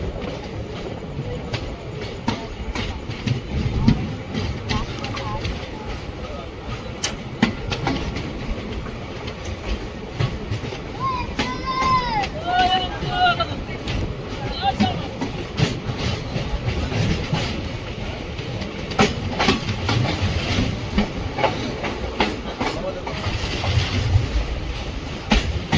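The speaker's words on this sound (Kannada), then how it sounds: "ನೋಡಿ ಎದುರುಗಡೆಯಿಂದ ಟ್ರೈನ್ ಬರ್ತಿದೆಯಲ್ಲ, ಅದು ಯಶವಂತಪುರ ಸಿಂಧನೂರು ಎಕ್ಸ್ಪ್ರೆಸ್" Yesvantpur–Sindhanur Express passenger train running past, a continuous rumbling roll of rail cars with steady clickety-clack wheel beats and a brief wheel squeal partway through, loud and close throughout with no speech.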